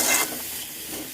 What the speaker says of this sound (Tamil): எண்ணெயில் கொஞ்ச நேரம் வதங்கட்டும்.